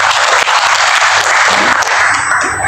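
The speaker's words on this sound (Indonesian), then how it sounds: "Dengan tepuk tangan yang buat Tuhan." A church congregation at a worship service claps hands, a loud, dense and continuous wash of applause filling the space from start to finish, with no talking.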